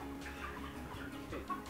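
Broiler chickens on a farm, soft clucks and murmurs scattered over a low, steady background hum, faint and continuous with no voices.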